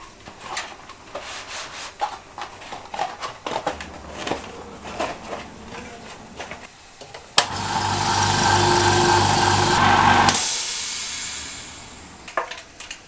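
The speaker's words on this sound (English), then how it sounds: "I'm not holding my breath that this will inflate even with a compressor, but I'll try it anyway." An air compressor runs in a sustained loud hiss and drone for about three seconds while trying to inflate a fat bike tyre on a wide rim, preceded by quieter handling clicks and rustling.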